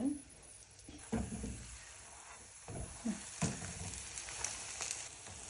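Quiet sizzling of qatlama flatbread frying in oil, a soft crackling hiss with occasional clinks and scrapes of a utensil nearby.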